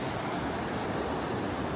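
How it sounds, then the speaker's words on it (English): Ocean waves crash steadily onto the beach at Scarborough's North Bay, with surfers out on the water. The roar of surf is a continuous, fairly loud wash with wind noise mixed in and no voices. "That awesome sound of the waves crashing is just therapeutic."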